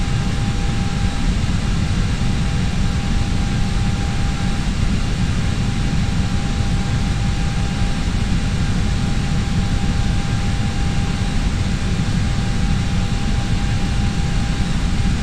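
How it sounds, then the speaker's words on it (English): Engines of a British Airways airliner on final approach to London Heathrow in Microsoft FSX give a steady, loud, continuous jet roar with a faint high whine, unchanging throughout and without talk. "We're now beginning our final turn to line up with the runway and begin our final approach to London Heathrow, runway 9."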